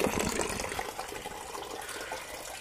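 Dirty coolant drains from the radiator of a seized Nissan Skyline 350GT, a steady, fairly loud gushing and splashing of liquid heard up close, alone and without talk.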